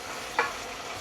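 Pork curry is stirred in a pot over a steady sizzle, with one brief scraping swish of the spoon partway through, close and fairly quiet.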